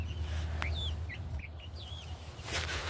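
Chickens cluck and make soft rising calls against a steady low background rumble, several short chirpy notes scattered across a few seconds, faint and somewhat distant.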